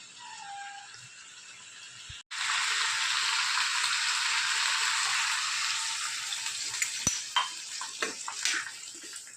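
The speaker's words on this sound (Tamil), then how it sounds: "எல்லா காயும் போட்டு நல்லா வதக்கணும்" A steady broad hiss of mixed vegetables sautéing in a hot pan for a South Indian mixed-vegetable sothi curry, close and constant, with a few faint clinks near the end and no talking.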